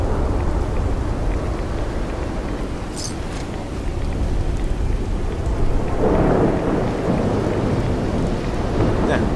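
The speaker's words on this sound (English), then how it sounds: "I hope y'all can still hear me over the sound of this storm" A thunderstorm with heavy rain in the video game Fallout 4: a steady, loud wash of rainfall with a deep rumble of thunder swelling midway, no talking.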